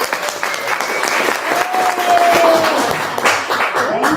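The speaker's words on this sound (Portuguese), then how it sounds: "Foi uma salva de palmas" Applause from an audience at an evening question-and-answer session, a loud, full round of clapping that holds steady throughout, with some voices and cheers mixed in.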